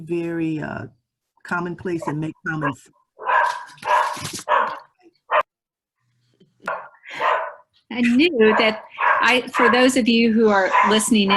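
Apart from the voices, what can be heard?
dog barking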